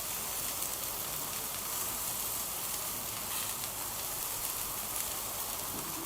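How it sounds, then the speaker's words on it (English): Lamb loins searing on a hot grill give off a steady, dense sizzling hiss that holds evenly from start to finish, with no voices over it. "we're going to give the lamb a quick sear from all sides"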